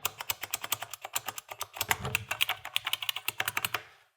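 Rapid clacky keystrokes from an old mechanical keyboard, a close, steady stream of typing with brief pauses before it stops.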